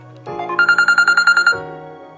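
A short electronic morning alarm melody: a rapid run of about a dozen bright, evenly pulsed beeps, loud and close, lasting just over a second.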